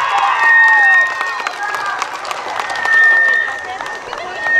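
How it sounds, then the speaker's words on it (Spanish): Clapping and cheering from wedding guests celebrate the newlyweds at a Mexican wedding reception. The applause rises and falls in waves for several seconds, with a crowd murmur and a melodic tone underneath. "aplausos para la feliz pareja"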